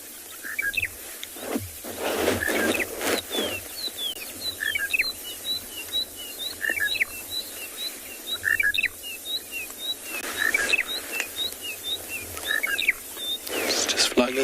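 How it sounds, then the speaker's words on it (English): A monotonous lark calls on a sunset safari. It repeats short, high, chirping phrases steadily over a low, steady rumble, fairly near and with no voices. "get us onto this monotonous lark here"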